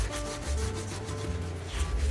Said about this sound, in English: Go ahead and scrub that.